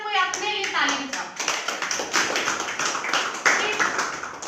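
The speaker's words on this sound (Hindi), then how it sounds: "पहले तो सब कोई अपने लिए ताली बजाओ" A group of children at a menstrual hygiene day session clap their hands together, a dense run of uneven claps lasting several seconds, with some voices mixed in.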